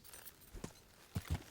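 Horse hooves clip-clop in the Kingdom Come: Deliverance video game, a few scattered hoofbeats at a slow walking pace, fairly close and quiet, with no talk.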